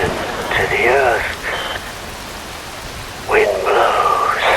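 Steady rain hisses throughout a scene in Metal Gear Rising: Revengeance, a constant wash of falling water beneath a voice speaking in measured, dramatic bursts.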